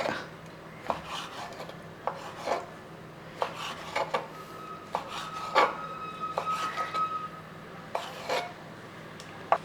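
Knife cutting cleaned squid on a board, a series of irregular close taps and scraping strokes over quiet background hiss.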